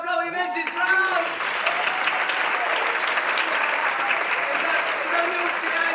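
Steady, full applause from a gala audience for actor Lluís Febrer, dense clapping sustained throughout after a brief voice at the start.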